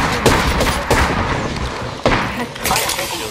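Video game gunfire in a team shooter, rapid overlapping shots and thuds crackling loudly in irregular bursts throughout, with faint voices mixed in.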